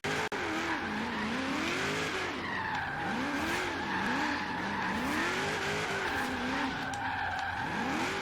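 A Holden Maloo drifts through a corner in a racing video game, its tires squealing in long wavering arcs over a steady, loud engine drone that rises and falls through the slide.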